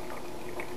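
An egg dropped into a hot pan gives a brief, steady frying hiss, close and moderately loud.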